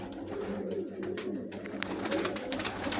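Pigeons coo in a loft. The low, rolling coos are faint and continuous, with scattered light clicks and rustles around them.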